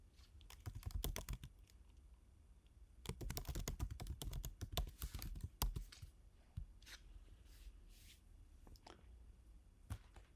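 Brisk typing on a computer keyboard while entering a username and password, with rapid clustered keystrokes in bursts, then sparser taps and pauses, close and clear with no voices.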